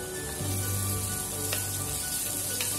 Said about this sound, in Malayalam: അതുവരെ ഇങ്ങനെ ഇളക്കി വഴറ്റിയെടുക്കുക.